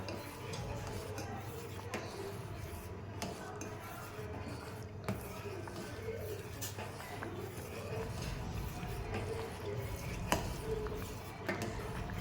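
Cornflour stirred into boiling mutton soup with a utensil, scraping and clinking against the pot in irregular strokes over a low bubbling background, with faint talk at times.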